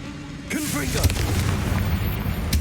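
A Confringo spell fires and explodes in the video game Hogwarts Legacy, a short burst followed by a rumbling boom that fades under lingering game ambience, with a character's shouted voice at its start.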